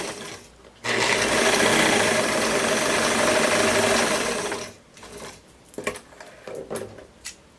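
A sewing machine stitches the crotch seam of a jumpsuit in one loud, steady close run of about four seconds, then stops, followed by softer handling clicks and rustles.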